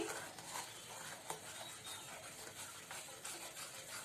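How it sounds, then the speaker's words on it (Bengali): Powdered milk is stirred into a chira (flattened rice) dessert in a pot, heard as a quiet, continuous scraping and light clinking of a spoon with faint sizzling underneath. "গুঁড়া দুধটা দেওয়ার পর আমি সাথে সাথেই খুব ভালো করে এটাকে নাড়িয়ে চাড়িয়ে মিশিয়ে নিচ্ছি"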